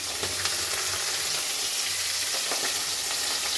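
Fish pieces frying in hot oil in a pan for a Bengali mustard fish curry, a dense, even crackling sizzle holding steady close up throughout with faint scraping underneath.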